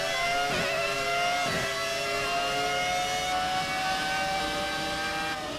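A Williams FW25 Formula 1 car's engine in the F1 2018 video game, revving through the Monaco tunnel: a loud, continuous high-pitched whine climbing through the gears, with quick shift dips.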